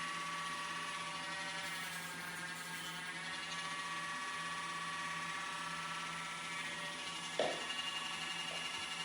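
A nail dremel grinds a scared dog's nails with a steady high-pitched electric whine that runs continuously at low level, with a brief scrape or bump near the end and no talking.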